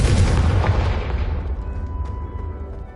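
A Confringo fire spell blasts in the game Hogwarts Legacy: one loud, close boom bursts at once and then rumbles and fades over a few seconds, with no voices.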